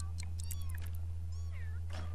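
Cats meowing repeatedly in The Sims 3, several short close calls over a steady low hum, with a brief rising yowl near the end.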